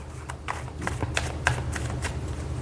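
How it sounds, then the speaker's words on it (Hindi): Tarot cards being shuffled and drawn, a string of brisk papery riffles and flicks at moderate level over a low steady hum. "चलिए कुछ और कार्ड्स निकालते हैं।"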